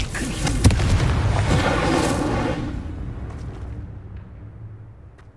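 An Incendio fire spell in Hogwarts Legacy erupts as a loud, roaring burst of flame with a crackling snap near the start, then slowly dies away into quiet.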